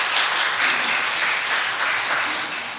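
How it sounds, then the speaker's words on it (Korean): A church congregation applauds at an Easter Sunday service after a musical performance, a steady, dense wash of clapping from many people that holds evenly throughout without anyone speaking. "격려 박수 부탁드립니다"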